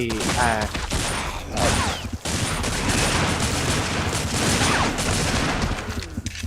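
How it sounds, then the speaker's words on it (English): AK rifle fire in the multiplayer zombie survival game Survivalist: Invisible Strain, a loud, dense and sustained volley of rapid gunshots with mechanical clatter, nearly continuous throughout. "Sounds like one of the Whiskey Fall guys has a AK"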